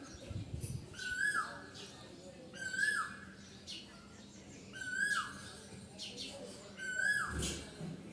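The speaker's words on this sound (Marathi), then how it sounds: "हे बघा कोकिळाचा आवाज" Four clear koel calls ring out in a regular rhythm, rising whistles from a nearby bird with other small birds chirping faintly behind.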